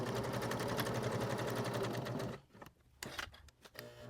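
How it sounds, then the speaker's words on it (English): A sewing machine stitches a pieced Santa Christmas ornament, a fast even whirring chatter for a couple of seconds that then stops and restarts in short bursts, close and clear with no talking. "we're just going to stitch all the way around, starting at our first open line and going all the way around."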